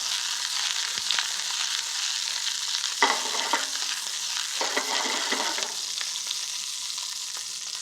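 Peppers blister and sizzle in a very hot pan for Spanish tapas, a constant crackling fry with short bursts of stirring and tossing, close and alone without talk.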